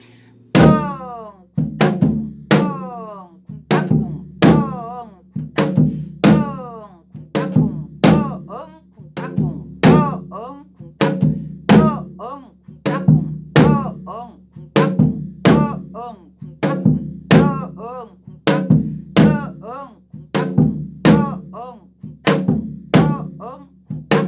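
Janggu, the Korean hourglass drum, played in hwimori rhythm, a fast, steady run of loud, close strokes mixing deep booming hits and sharp slaps, repeating evenly through the whole passage.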